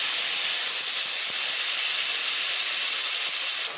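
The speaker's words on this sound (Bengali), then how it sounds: "আলুটাকে বেশ ভালোভাবে ভেজে নেব" Potatoes frying in hot oil, a dense, even, loud sizzling hiss that holds steady without a break.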